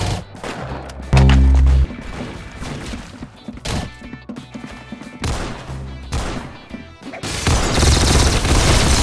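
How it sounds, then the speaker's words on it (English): Webley revolver fire in the Roblox game Arsenal: a run of loud, sharp gunshots in quick bursts, with one heavy booming blast early on and dense firing toward the end. "That's some beautiful shooting right there."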